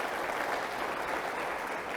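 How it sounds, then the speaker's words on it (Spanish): Worshippers at a Spanish-language church service clap together in a thick, even wash of applause that holds steady for two seconds. "Un aplauso fuerte al Señor."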